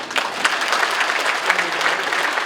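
An indoor audience at a Korean political gathering claps in dense, steady applause that holds at an even level throughout.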